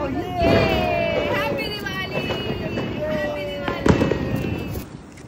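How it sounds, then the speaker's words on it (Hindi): A sky shot firework launched during Diwali whistles upward over outdoor crowd noise, with pops and crackles from other fireworks nearby while people talk and shout close by. "जीजा ने जला दिया भाई स्काई शॉट, ये गए ऊपर"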